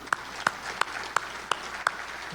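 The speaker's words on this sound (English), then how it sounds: "Let's give Jasmine a big round of applause." Six evenly spaced claps at a Chamber of Commerce monthly luncheon, sharp and moderately close, with a quiet room behind them.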